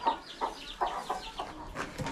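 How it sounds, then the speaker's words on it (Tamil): A rooster on a farm clucks in a quick series of short, close calls, several of them in a little over two seconds, with no talking. "இங்கே ஒரு சேவல் இருக்கு."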